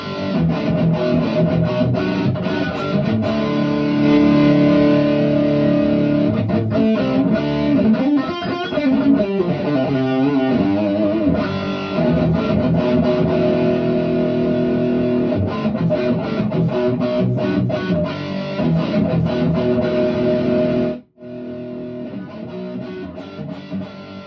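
An electric guitar plays through a Marshall Artist amplifier with a dirty, slightly overdriven tone, strummed chords and riffs continuing without pause before a brief cut near the end.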